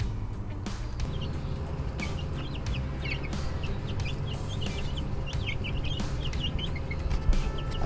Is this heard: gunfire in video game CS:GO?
no